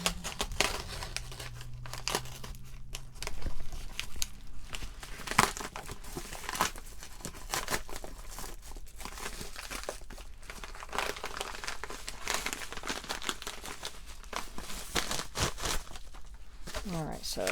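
Crinkly packaging around a mailed, rebound KJVER Bible is torn open by hand: continuous close crumpling, rustling and ripping that runs steadily throughout, with a few sharper tears.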